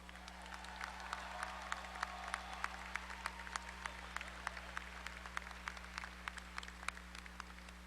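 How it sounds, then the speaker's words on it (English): A commencement audience applauds new alumni at a spring university graduation ceremony in Texas, a steady wash of many hands clapping at a distance throughout, with a constant low hum underneath. "Everyone, let's give these new alumni a round of applause."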